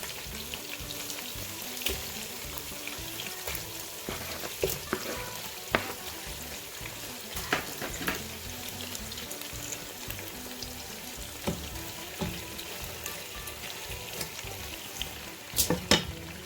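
Chicken for tandoori chicken karahi sizzles and crackles steadily in a pan, with occasional sharper pops and scraping stirs spread across the whole stretch, close and moderately loud, without any talking.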